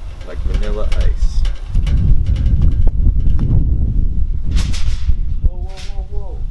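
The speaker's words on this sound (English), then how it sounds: "This wind is crazy. Chill out, wind." Strong outdoor wind buffets the microphone at a backyard cookout, a heavy low rumbling roar with gusty swells throughout, while people talk and exclaim over it.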